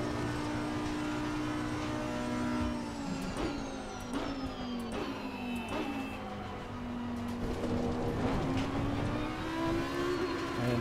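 An Audi race car engine in Assetto Corsa Competizione, a steady high drone that climbs and drops with quick upshifts and crisp gearchange pops, driven on a Fanatec DD Pro wheel.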